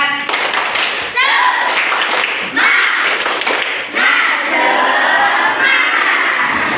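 Schoolchildren in a classroom perform a rhythmic spirit clapping chant, with bursts of patterned claps and thumps mixed with shouted young voices, loud and close.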